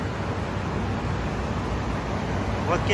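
Steady, loud whooshing and rumbling of car wash machinery running continuously, close by, with no break in the noise.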